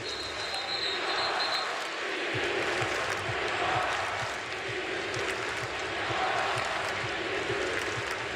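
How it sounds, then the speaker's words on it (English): A crowd at a college basketball game between Florida and Gonzaga in Portland, Oregon roars continuously, a dense wash of cheering and voices filling the arena at a steady level. "Listen to this crowd."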